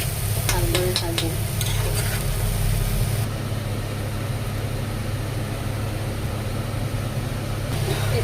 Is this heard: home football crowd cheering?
no